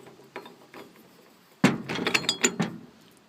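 Air impact gun spinning a socket on a 3/4 inch extension to remove an LP tank valve, a quiet ratcheting after a pause, then a loud close burst of rapid mechanical hammering and clattering.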